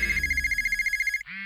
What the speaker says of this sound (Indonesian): Ma, HP-nya berisik.